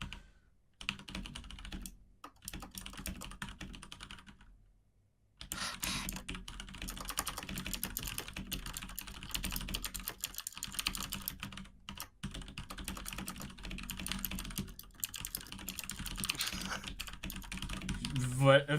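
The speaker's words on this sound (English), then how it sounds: "Violent typing." Fast, forceful typing on a computer keyboard, a dense continuous clatter of keystrokes close to the microphone with one brief pause partway through.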